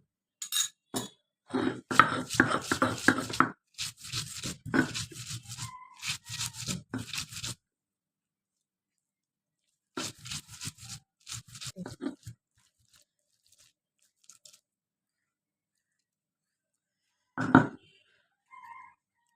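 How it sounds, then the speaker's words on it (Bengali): Boiled taro leaves are mashed by hand with chopped onion, fried green chili and salt: bursts of wet squishing, rubbing and crunching that stop and start, with long silent gaps between rounds. "আমার ভর্তা ডলা হয়ে গেছে"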